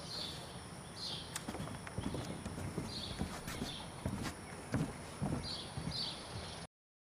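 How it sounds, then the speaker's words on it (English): A horse walking on, hooves clip-clopping in a steady uneven rhythm at moderate distance, with faint outdoor background and a few high chirps before cutting off. "he can ask his horse to walk on."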